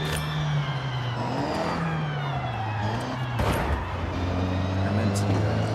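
A rally car engine in the Assetto Corsa Rally video game drones and revs continuously at a moderate level, rising and falling in pitch beneath someone talking.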